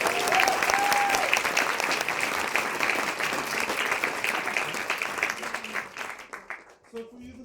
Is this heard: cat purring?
no